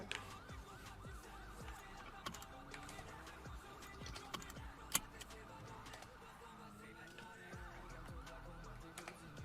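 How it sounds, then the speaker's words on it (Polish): Police sirens wail and sweep during a video game car chase with five police cars in pursuit, mixed with clicking, rumbling game noise and some voices. "Nas gonią pięć radiowozów"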